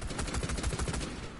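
Rapid automatic fire rattles in a shooter video game, a short close burst of about six evenly spaced shots that fades out.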